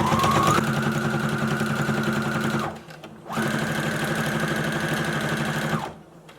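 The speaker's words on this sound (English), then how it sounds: "I'm going to keep sewing until I get to the other corner" A sewing machine stitches a foldover clutch bag in two sustained runs of fast, even whirring, close by, broken by a brief pause for pivoting at a corner before the second run stops.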